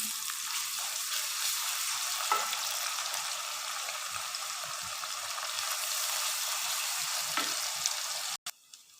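Garlic paste and onion fry in a pan as a dense, even sizzle that runs near and steady for most of the stretch, then cuts off abruptly near the end; no one speaks.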